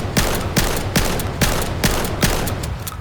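A rapid-firing weapon in the VR shooter Vail lets off quick bursts of loud, sharp gunfire. About eight distinct shots or short bursts come at a fast, fairly even rhythm, close and punchy, with no voices.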